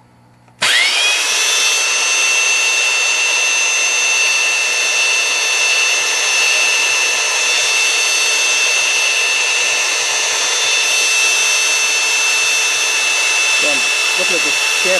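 Electric power tool running steadily and loudly while chamfering the edges of steel vise jaws, a continuous high whine with strong tonal bands that holds from start to finish, with brief faint contact noise near the end.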